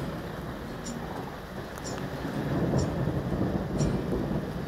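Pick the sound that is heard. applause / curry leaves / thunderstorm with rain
thunderstorm with rain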